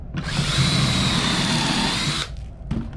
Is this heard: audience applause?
no